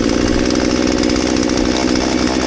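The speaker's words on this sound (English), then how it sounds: "I just need to take the chainsaw" A chainsaw cutting through a storm-felled tree trunk runs steadily at high revs, loud and close, a continuous buzzing roar with no pauses.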